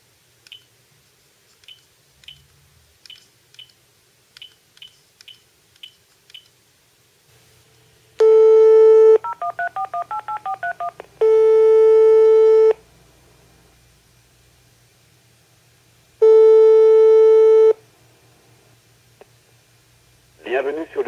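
Telephone keypad tones on a bank's interactive voice line: a series of short faint ticks, then loud steady beeps and a warbling dial tone, followed by a brief spoken voice.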